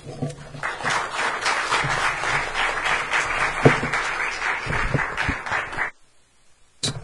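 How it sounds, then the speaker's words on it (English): Warm applause fills a conference hall as an audience welcomes a speaker, steady dense clapping for nearly six seconds before it stops abruptly. "Please help me welcome with a warm applause Dr. Vidal Garza Cantú"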